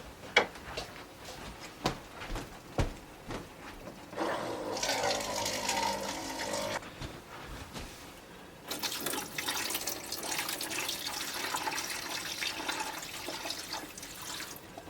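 Water being poured into a countertop ice maker at a camping tent, a soft splashing trickle with a few drips at first, then two longer, steady pours of running water.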